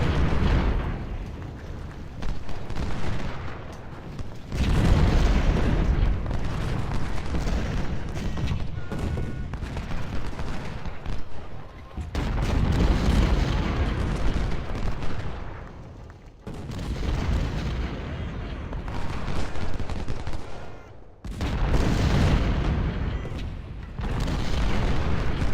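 Dense, continuous rumbling booms of artillery and gunfire in an Ultimate General: Civil War battle, loud and sustained in long waves with brief dips between them.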